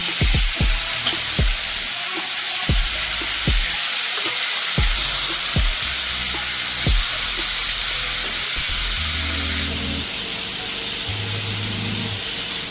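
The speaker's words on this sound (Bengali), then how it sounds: "চিকেনটা আমি দুটো হালকা করে ফ্রাই করে নেব" Chicken pieces sizzle and crackle steadily in hot oil in a pan, with a few sharp knocks and pops early on over a constant frying hiss.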